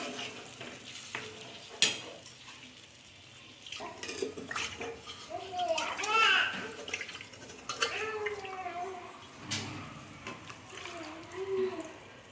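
Dal with added water is stirred in a kadhai, giving scraping spoon strokes and clinks against the metal over a soft sizzle, with a few louder knocks.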